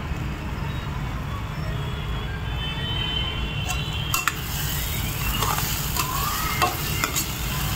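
Masala paste roasting in oil for a mushroom masala, with a steady close sizzle under scraping spoon strokes that grow busier in the second half, a low background rumble running throughout.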